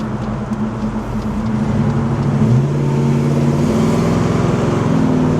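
A restored 1970 Chevelle with stiff springs and quick steering box rounds a corner, its V8 burbling steadily from inside the car with a rising rev partway through, loud and continuous, no speech.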